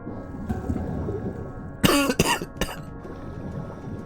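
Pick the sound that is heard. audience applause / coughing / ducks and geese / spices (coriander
coughing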